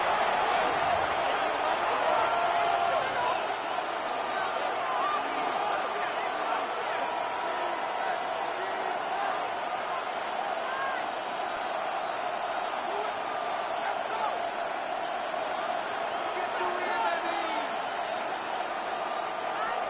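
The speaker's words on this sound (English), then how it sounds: "This crowd, they're trying to force a false start." A football stadium crowd roars loud and continuous before a third-and-inches snap as a Green Bay opponent's home fans try to force a false start, a steady wall of noise under a commentator's voice.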